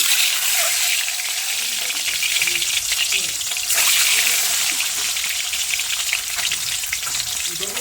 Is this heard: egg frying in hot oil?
yes